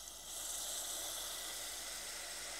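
Beef patty for a crab burger sandwich dropped into hot oil in a pan, giving a steady, continuous sizzle of broadband hiss that starts after a brief quiet moment and holds level throughout, no voices.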